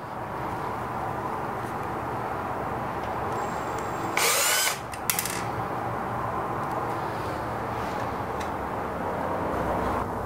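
A power screwdriver gives a short, loud whir of about half a second as it backs out the single screw holding the front display of a Baratza Forte coffee grinder, set against a steady low background hum.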